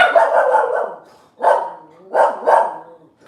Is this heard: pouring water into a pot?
no